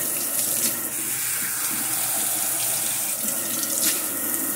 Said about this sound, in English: Get yourself a sponge, kick on some hot water.